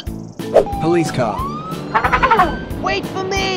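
A cartoonish police car siren wails with rising and falling tones among busy animated sound effects and excited voices, loud and close.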